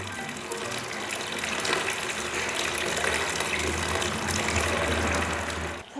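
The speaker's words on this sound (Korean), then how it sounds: "적정 물소리 한번 감상해 보시지요" Gentle, steady flow of water from a home water feature, set to a falling height chosen to stay soft rather than roar like a waterfall; a continuous close splashing trickle runs alone throughout.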